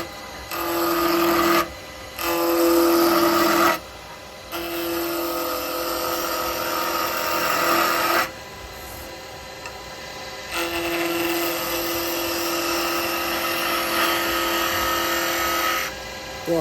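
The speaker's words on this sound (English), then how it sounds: "I'm using my 1-inch rubbing gouge with a fingernail grind on it." A wood lathe runs steadily while a 1-inch rubbing gouge with a fingernail grind cuts a snowman hat, the motor hum and cutting noise stopping and restarting several times in close, loud bursts.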